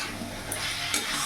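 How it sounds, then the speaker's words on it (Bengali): Potatoes and cauliflower being sautéed with spices in a pan for a Bengali silver carp curry, a steady soft sizzle with scraping stir sounds throughout, close and moderately quiet. "এবার আলু ফুলকপির সাথে আমি আরও 5 মিনিট কষিয়ে নেব।"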